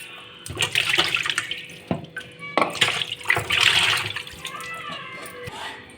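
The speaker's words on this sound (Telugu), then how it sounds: "వాటర్ అయితే ఎక్కువ కావాలండి నిమ్మరసం ఇలా వేసి బాగా కడుక్కోవాలి" Running water splashes and gurgles close by in bursts, hands sloshing fish with lemon juice under the flow, with brief pauses between rinses.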